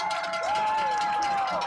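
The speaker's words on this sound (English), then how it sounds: "Crowd's into it." A crowd cheers loudly and steadily at a high school football senior night game between the WCHS Wildcats and Cornersville Bulldogs, a broad roar with a whistle-like tone sliding through it.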